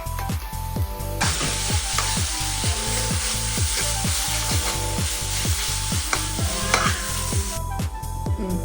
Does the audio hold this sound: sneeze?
no